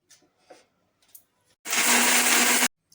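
An electric mixer-grinder runs in one loud, steady whir for about a second, grinding spice paste for a no-oil coconut fish curry, after a few faint clicks and a near-silent pause.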